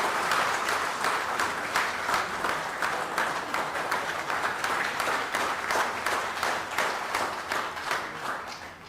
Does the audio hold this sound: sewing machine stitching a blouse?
no